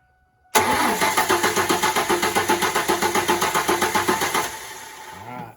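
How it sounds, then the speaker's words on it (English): A Ford Mustang 3.8L engine cranking with its fuel pump removed, the starter churning in a fast, even rhythm of about twenty loud close pulses for four seconds before winding down without catching. "We're gonna go ahead and crank it to see if everything's still good."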